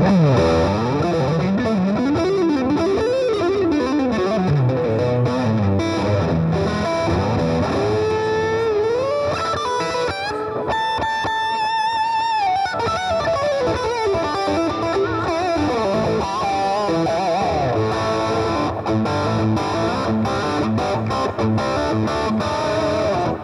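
A Chapman electric guitar with a Seymour Duncan Alternative 8 pickup plays a long, sustained lead with smooth, creamy overdrive, bending and sliding notes over a held chordal tone, loud and continuous.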